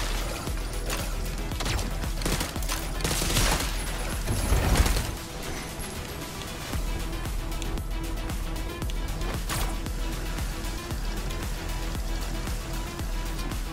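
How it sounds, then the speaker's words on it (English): Electronic battle music from the run-and-gun game Soda Crisis, steady and dense with a constant bass pulse, busy clattering in-game effects and a brief louder crash partway through. "it's battle music, but it doesn't really do much for me"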